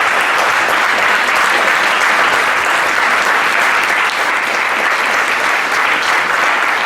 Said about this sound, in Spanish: les pido que les demos un afectuoso aplauso a todos